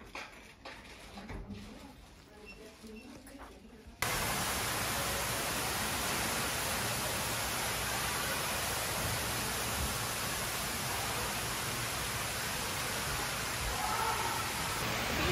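Dense, steady wash of splashing water and crowd noise, loud and continuous, like a busy indoor water park; a quieter muffled stretch comes before it.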